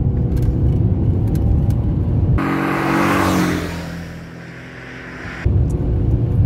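The six-cylinder engine of a rare Ford Mondeo ST200 roars loud and close under acceleration, dips into a smoother rushing drone, then surges again, with no voices.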